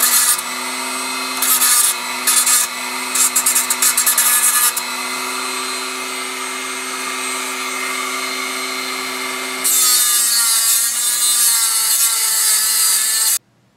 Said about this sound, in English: I'm just going to use the back of the Dremel.